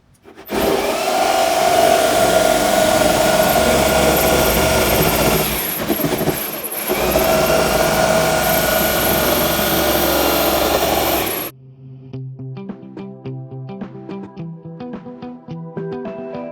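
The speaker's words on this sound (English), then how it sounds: "So just depends on which jigsaw you're using." Jigsaw with a blade for plastics cutting through gray PVC plastic, a loud, steady buzzing drone for about eleven seconds with a brief dip midway, then it cuts off, leaving quieter clicking and handling sounds.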